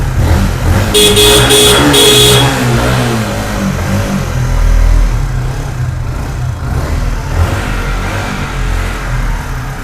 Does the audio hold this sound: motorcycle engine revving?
yes